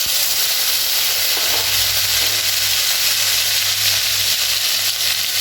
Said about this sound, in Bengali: ফোড়নটা হয়ে গেছে, এবার আমি একে একে বাটা মশলাগুলো দিয়ে দেবো।